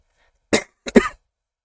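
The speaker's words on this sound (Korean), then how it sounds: "코로나 이거 다시 또 기침이 나오네요" Two short coughs close to the mic from someone with COVID, a single one followed by a slightly longer, throatier one, with silence around them.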